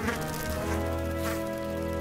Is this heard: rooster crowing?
no